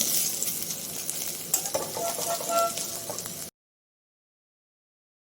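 Fish frying in mustard oil sizzles steadily up close, mixed with occasional scraping from a utensil for a few seconds before cutting to silence.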